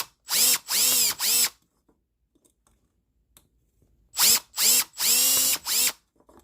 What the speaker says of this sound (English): Using a hand drill because this is an angled surface here